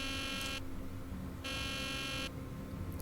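An alarm buzzer in Nancy Drew: The Deadly Device sounds as a loud, steady electronic drone whose bright upper tone cuts in and out in long pulses over a constant low hum.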